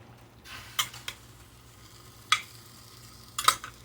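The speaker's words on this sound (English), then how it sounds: "Get a spoon and stir this." A spoon stirs cooked cabbage with ham, butter, salt and pepper in a cast iron pan, giving a few separate scraping clinks against the metal under a faint steady hum.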